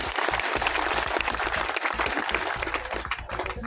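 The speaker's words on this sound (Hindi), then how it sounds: "ताली जरूर बजाए मेरे लिए" An outdoor crowd at an AAP ward election rally in Nangloi, seated in the sun, breaks into steady, dense applause that runs continuously and loudly from start to finish.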